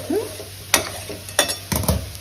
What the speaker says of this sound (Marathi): कडेनं तेल सोडत राहायचं जरा जरा म्हणजे झुणका छान शिजतो